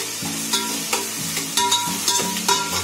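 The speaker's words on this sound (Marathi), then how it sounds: "तेल भरपूर टाकलेले त्याच्यामध्ये टमाटे पण टाकणार लगेच" Tomatoes and onions sizzle and fry in plenty of oil, with a steady crackling hiss and repeated scraping stirs, for a village-style chicken curry cooked in bulk.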